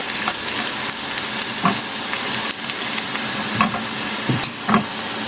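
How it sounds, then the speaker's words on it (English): Chopped garlic frying in hot oil in a pan, a steady close sizzle with occasional stirring scrapes and clinks throughout. "So fry the garlic like until golden brown"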